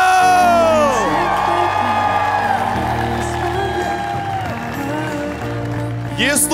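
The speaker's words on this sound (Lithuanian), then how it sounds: "O dabar su jūsų plojimais pasitikime trečią" A live tournament audience cheers, whoops and applauds loudly throughout, a dense crowd roar that sits alongside amplified music and eases slightly before swelling again at the end.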